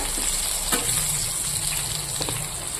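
Slices of eggplant fry in a pan with a loud, constant hissing sizzle and occasional crackles and stirring scrapes, close up.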